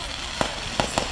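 A fireworks finale at a nighttime display, with three sharp bursts popping at intervals over a steady background wash of crackle and crowd noise.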